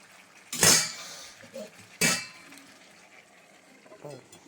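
A metal lid is set back onto a cooking pot of chui jhal chicken, giving two sharp clanks about a second and a half apart, close and fairly loud over a quiet kitchen.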